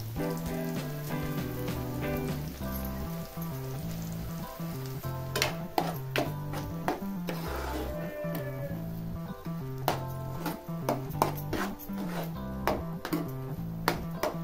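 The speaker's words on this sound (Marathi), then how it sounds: "आता 2 मिनिटं परतून घ्यायची।" Ground masala paste for a Shevga drumstick curry, cooked with tomato and salt, sizzles steadily in a hot pan with occasional sharp stirring clicks, over a constant low tonal background.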